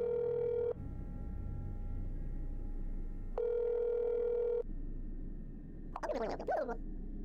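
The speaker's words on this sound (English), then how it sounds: "Let's go ahead and call your house and see if you're home." A steady electronic dial tone in the game That's Not My Neighbor plays in two stretches with a pause between, followed by a short burst of a warbling phone ring near the end.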